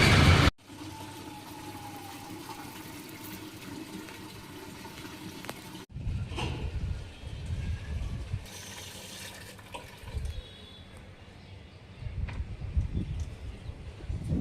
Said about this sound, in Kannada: ನಮ್ಮಮ್ಮ ಗಿಡಕ್ಕೆ ನೀರು ಹಾಕ್ತವ್ರೆ